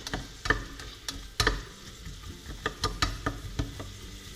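Onions frying in oil in a pot on a stove, with scattered crackles, pops and clicks over a low steady hiss, some louder pops standing out close by.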